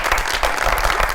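A studio audience on a talk show gives a dense, even burst of applause, close and loud, lasting just over a second.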